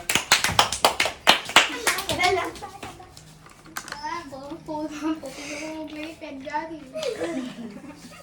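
A rapid run of sharp hand claps opens the scene, close and loud, then gives way to lively chatter and laughter from young girls during a bottle-flip game, with a few scattered claps later.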